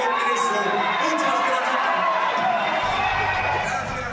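Crowd in the Mexican Congress jeering and booing loudly, a dense wash of voices held throughout before a lower rumble enters near the end.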